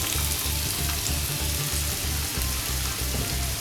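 Onion fries in hot oil in a pan with carrots and chopped capsicum for vegetable macaroni, a loud continuous sizzle with a low pulsing rumble underneath and no voices.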